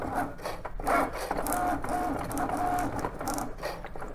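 Dirty vinyl cutting machine slicing holographic adhesive vinyl, a close mechanical whirring and grinding with scraping, rattling texture and brief thin squeaky tones, running continuously.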